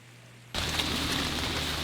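Rain begins falling at an outdoor disc golf course, the quiet background suddenly giving way to a steady, fairly loud hiss of rain on surfaces that holds for the rest of the moment.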